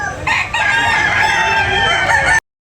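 A rooster crows once, loud and close, a long strained call of several seconds at a poultry sale, ending abruptly.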